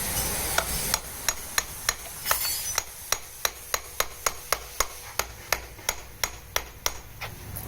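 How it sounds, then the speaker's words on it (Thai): A tricycle's rear sprocket is hammered loose on its threaded hub: about twenty sharp metal strikes fall in a steady, close rhythm, each one ringing briefly. "เราทำการตอกออก"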